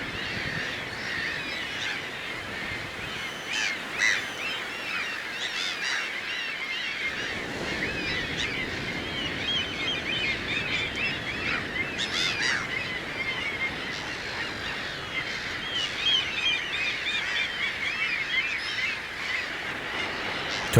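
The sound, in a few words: seabirds calling around sea cliffs, Faroe Islands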